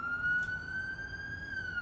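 An ambulance siren passes along the street outside, a steady wailing tone that rises slightly and holds, loud and continuous over low traffic rumble.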